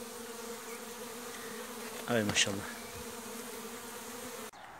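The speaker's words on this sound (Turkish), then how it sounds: "Yarın tarlaya gidecek acemi arıların kovan yerini ezberleme eğitimi." Young honey bees buzz around the hive on an orientation flight, a steady low hum of many insects close by, with a brief spoken exclamation in the middle.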